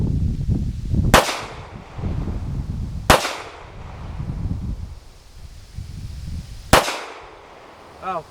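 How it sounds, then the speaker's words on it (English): Three sharp gunshots from a SIG P365 Fuse pistol ring out at spaced intervals, each a loud crack with a quick decaying tail, while low wind rumble and handling noise fill the gaps. "You can see where I pulled the shot"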